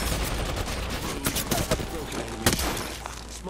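Smart-bullet gunfire in Apex Legends snaps out in quick scattered bursts, moderately loud with a few sharper cracks, set against steady game ambience and voice chatter.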